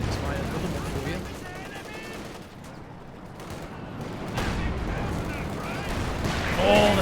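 Gunfire rattles on without a break in the video game Battlegrounds, a dense, loud clatter of shots and blasts, while a voice talks over the noise.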